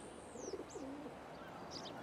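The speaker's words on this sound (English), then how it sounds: "But this time I'm a pigeon." A pigeon in the city setting of the video game The Life of Animales gives soft, low coos against faint background ambience, with a few thin higher chirps scattered between them.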